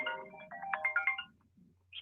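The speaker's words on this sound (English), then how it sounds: "As I get a phone call." A phone ringtone sounds close and clear, a short melodic burst of several rising tones followed by a pause and the start of another ring.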